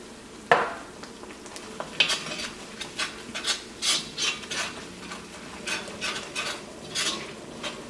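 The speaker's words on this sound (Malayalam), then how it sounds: "ഈ മുളകിൻ്റെ പൊടിയും ഇതിനകത്ത് കിടന്നിട്ട് നന്നായിട്ട് മുരിക്കണം" Chili powder fries in oil in a pan for a chicken curry. A loud utensil knock is followed by rhythmic scraping and stirring strokes over a soft, close sizzle.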